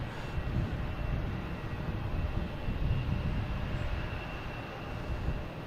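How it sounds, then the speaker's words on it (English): Delta A321 airliner arriving from Minneapolis at Boston Logan Airport, heard as a steady, fairly faint low roar of jet engines at a distance, with broadband rumble and no voices. "now we have on the left there we have a Delta A321 coming in from Minneapolis"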